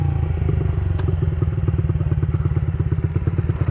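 A motorcycle on a stunt-practice ride runs a steady, loud, close engine drone with a rapid throbbing pulse, a sharp knock near the start, and no talking.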